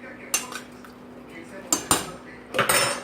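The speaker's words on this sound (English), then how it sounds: "And you stir it." A spoon clanks and scrapes against a pot of Puerto Rican sancocho de patitas during stirring, with several sharp metallic knocks over a quiet simmering background and no voices.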